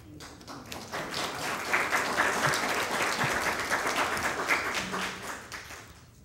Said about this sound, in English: They appreciate your applause.